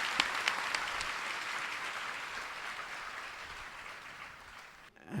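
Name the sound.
audience applause welcoming Swami Ramdev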